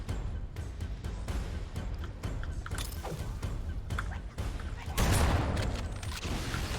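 Video game grenades go off amid a rattle of gunfire, with thuds and a louder blast about five seconds in, against steady game noise.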